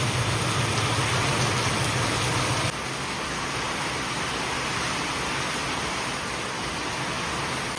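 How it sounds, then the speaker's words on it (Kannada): Heavy rain pours in a dense, continuous hiss, steady and loud with no pauses, a low rumble fading slightly after the first few seconds. "ಮಳೆ ಫುಲ್ ಜೋರೈತ್ರಿ"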